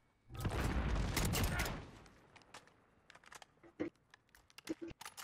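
SKS rifle fire in Call of Duty: Modern Warfare, a dense burst of loud gunshots in the first two seconds, then scattered sharper single cracks and clicks with voices talking underneath.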